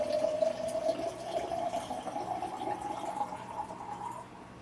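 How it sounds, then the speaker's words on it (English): Water poured from a height splashes and swirls into a container, a quiet, steady rushing stream that holds an even tone before tapering off at the end. "Pour it from a distance. Can you hear that? That is getting aerated."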